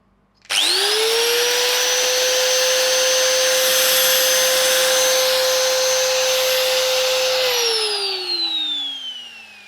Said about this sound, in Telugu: ఇప్పుడు కార్డ్ ఉన్న యాంగిల్ గ్రైండర్ యొక్క శబ్దం ఎట్లుంటుందో చూడండి.